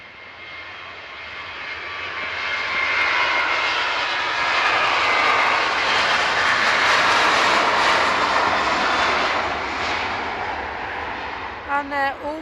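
Jet engines of a TUI airliner at Manchester Airport roar steadily, building over a few seconds to a loud, sustained broadband rumble, then easing slightly near the end as a few brief chirps cut in.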